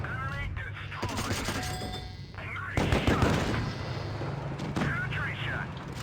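Tank cannon and machine-gun fire in a tier-five tank battle video game, with a Leopard light tank facing a T-25, booming shots and rattling bursts over a constant engine rumble, loud and close.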